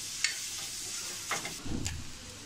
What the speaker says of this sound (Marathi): मी एक इंच आलं घेतलं आहे आणि 8-10 लसणाच्या पाकळ्या घेतल्या आहेत. थोडं परतूया आपण त्याला.